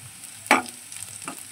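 Dry chilies and whole cumin hit hot mustard oil for khichuri, producing a short sharp sizzling burst followed by a fainter second crackle, close and brief, with no talking.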